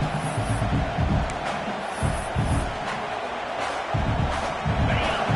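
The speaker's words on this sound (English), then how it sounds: "This crowd trying to make life miserable for this offense." A football stadium crowd roars at Clemson versus Tennessee, a thick, continuous wash of voices with low rhythmic thumping pulses rising and falling beneath it.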